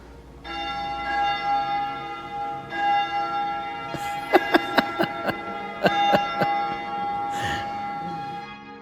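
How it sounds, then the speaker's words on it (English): A wishing bell inside a church in Slovenia rings three times in quick strikes over a sustained, humming bell tone, clear and fairly close. "Tasha says this is a wishing bell. Ring it 3 times and your wish will come true."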